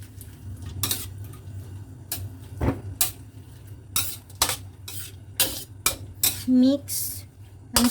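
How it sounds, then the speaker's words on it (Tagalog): Hairy melon stir-fried with vermicelli and dark soy sauce in a pan, a utensil scraping and clanking against the metal in repeated strokes over a low sizzle. "Mix until the hairy melon will have a sauce."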